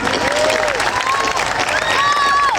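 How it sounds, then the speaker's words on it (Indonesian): An audience claps loudly and continuously at an Islamic religious gathering, with a dense wash of applause and a few tonal cries or whistles rising above it. "tepuk tangan"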